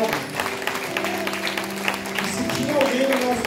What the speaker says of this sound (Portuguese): Você pode aplaudir o Senhor pela sua palavra?